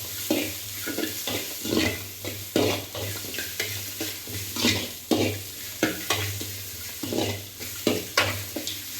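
Masala for mutton sambar frying in a pressure cooker with a steady sizzle, while a spoon scrapes and stirs it in quick repeated strokes, close and fairly loud.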